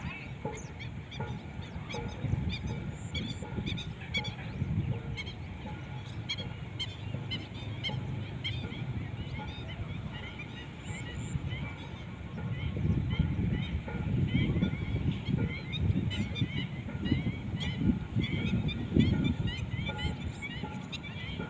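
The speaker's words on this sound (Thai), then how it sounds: "เสียงนก" Birds call and chatter at dusk in the background while people talk nearby, the chirping sitting faintly over a low hum.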